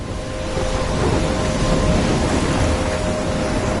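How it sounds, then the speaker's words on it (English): A thunderstorm in the Life is Strange video game: a steady, dense roar of heavy rain and rumbling storm noise, loud and continuous throughout with no breaks. "I'm trapped in a storm?"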